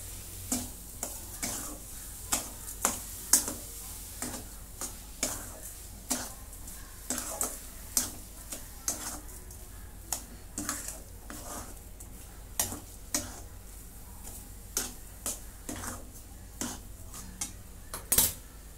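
A spoon stirs a coconut barfi mixture with sugar in a pan, regular scraping knocks against the metal about once a second over a faint sizzle.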